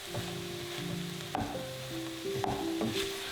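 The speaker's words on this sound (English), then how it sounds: "While the mushrooms are sauteing" Mushrooms sauteing in a saucepan, a soft steady sizzle with a couple of sharp utensil clinks and stirring scrapes, quiet and close, with low background music and no voices.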